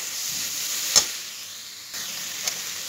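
Fresh coconut laddu mixture with cardamom powder cooking in a pan, giving a soft continuous sizzle with one sharp scrape of the spoon and a fainter second one, close by and with no voices.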